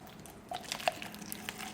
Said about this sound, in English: Fill that water up.